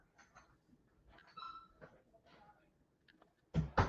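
A dog that fell off a balcony whimpers and yips faintly in short high bursts, fairly quiet, before a louder thump or burst of noise at the end.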